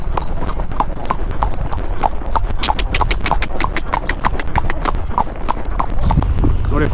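A horse being ridden in Davanagere, Karnataka, its hooves clip-clopping in a quick, steady rhythm close by on a paved road, while someone talks over the hoofbeats.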